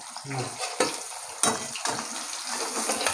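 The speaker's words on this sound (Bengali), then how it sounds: "এই হালকা করে ভেজে নিলাম দেখো অল্প একটু তেল দিলাম" Hilsa fish frying in a little oil in a pan, a steady close sizzle with crackling bursts and a few sharp spatters throughout.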